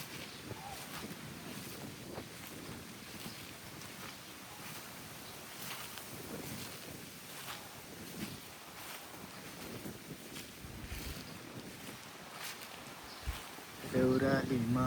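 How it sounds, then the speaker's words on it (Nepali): Wind rushes steadily around trees beside a house outdoors, a continuous gusty roar with microphone buffeting, swelling into a louder gust near the end. "कति मिठो हावा चलेको छ है।"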